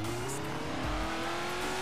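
Dodge Charger engine in a drift racing video game, a steady mid-level drone with a held engine tone and faint tire noise throughout one short stretch, no voices.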